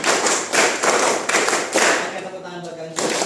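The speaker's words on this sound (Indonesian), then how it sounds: "3 kali tepuk 5." A class of eighth-grade junior high students claps in unison in a set pattern, a few sharp, loud, broadband claps in quick succession, with a voice speaking briefly near the end.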